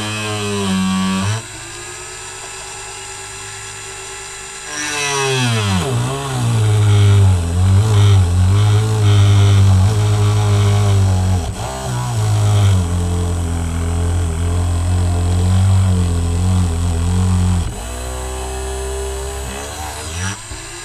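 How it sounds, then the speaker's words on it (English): A power drill whines loudly, its motor pitch rising and falling as it bores holes through wood in several long bursts with short pauses between. "So now I'm going to drill the holes."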